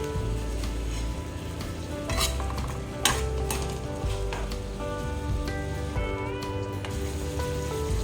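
Garlic butter shrimp with a little water and oyster sauce sizzle steadily in a pan, with scraping clinks of stirring breaking through the continuous crackle, no talking.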